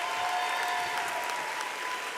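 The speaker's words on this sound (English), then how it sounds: "let's have a round of applause for the faculty and staff one more time" A crowd applauds faculty and staff at a school commencement ceremony, a steady, dense wash of clapping from many hands at moderate distance, filling the whole stretch without pause.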